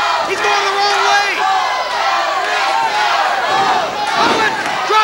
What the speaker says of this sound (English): And listen to the crowd. They're getting behind Chris Cage